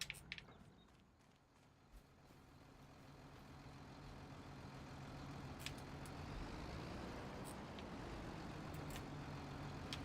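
A parked logging truck idles in Farming Simulator 25 with a steady, low engine rumble that swells a little and holds. A few faint clicks sit over it, and no voices are heard.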